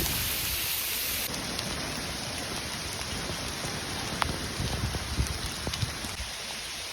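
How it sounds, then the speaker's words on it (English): Heavy hail and rain lash down across open moorland in a monsoon-like burst, a dense, loud, steady roar with scattered sharper impacts standing out near the end. "it's actually like fully hailing"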